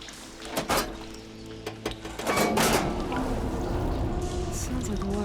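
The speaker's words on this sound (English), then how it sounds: "Sounds like the water's switched." Machinery in the video game Horizon Forbidden West switching the water flow: a few mechanical clunks, then a rising rush of flowing water that continues steadily to the end.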